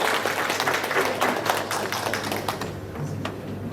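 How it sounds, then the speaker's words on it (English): A school audience gives Year 1 children a round of applause at a phonics presentation, dense clapping that fills the room and then thins out toward the end with a few scattered claps. "Can we give them one more round of applause"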